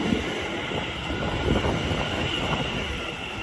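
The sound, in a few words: Greater Anglia class 720 train passing Shenfield station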